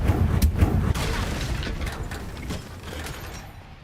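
Confringo fire spell blast in Hogwarts Legacy: heavy booming impacts land first, then a crackling, mechanical-sounding burst of rapid clicks fades gradually over a few seconds, loud and close with no talk.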